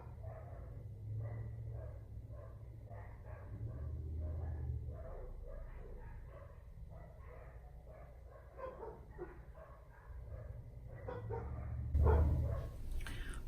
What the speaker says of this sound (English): That's my dog and my neighbor's dogs having a bark battle